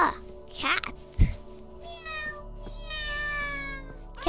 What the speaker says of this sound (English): Ah, cat.